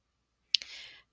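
A single keyboard arrow key pressed during math entry: one sharp, close click followed by a brief, softer rattle, then silence.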